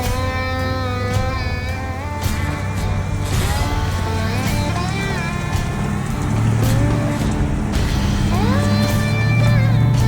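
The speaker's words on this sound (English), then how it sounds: "The Tundra made it with ease, without even slipping." Toyota Tundra pickup climbing an off-road trail in Georgia, its engine revving and shifting pitch through the climb, loud and close throughout with steady roar and no speech.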